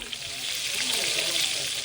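Breaded pork loin coated in pork rind panko fries in beef fat with a dense, steady crackling sizzle that stays close and continuous throughout.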